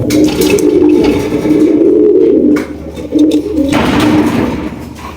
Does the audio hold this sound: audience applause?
no